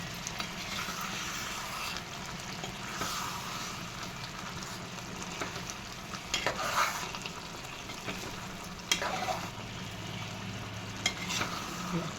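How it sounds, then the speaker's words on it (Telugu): Tomato egg curry being stirred in a pan after coriander powder and kasuri methi go in, a steady soft scraping and low sizzle running throughout with a few sharper utensil knocks near the middle and end. "ఇప్పుడు ఫైనల్గా ధనియా పౌడర్ అండి వేసి ఒక్కసారి కలపాలి"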